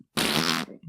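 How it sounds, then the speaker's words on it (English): A single loud, buzzy fart lasting about half a second, close to the microphone, followed by a short low rumble and quiet tail. "Just a fucking fart. But it's a stinky fart."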